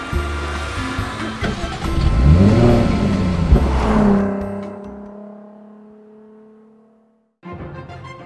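A 2014 Jaguar F-Type sports car accelerates away, its engine revving and sweeping upward in pitch before fading into the distance, followed by a brief burst of noise at the end.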